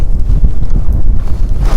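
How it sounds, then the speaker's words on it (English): Strong gusty wind buffets the microphone on a night fishing outing, a loud low rumbling roar that rises and falls in rapid bursts throughout. "If it wasn't so windy, guys, it would have been a better night"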